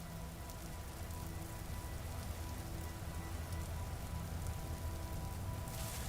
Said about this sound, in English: I think we're on the edge of the biome, so it's raining there,